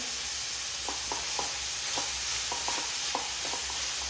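Ingredients fry in a pan with barely any oil for a dosa and paddu batter dish, a steady soft sizzle broken by repeated light scrapes and taps of a stirring spoon, close and unaccompanied by talk.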